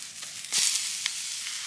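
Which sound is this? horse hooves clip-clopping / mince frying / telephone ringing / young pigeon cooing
mince frying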